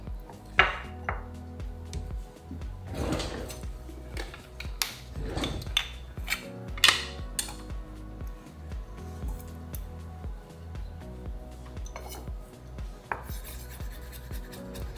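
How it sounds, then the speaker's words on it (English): Irregular knife strikes on a board chop steadily, with scattered sharper clacks and scraping sounds between them. "we go ahead and we start chopping our herbs"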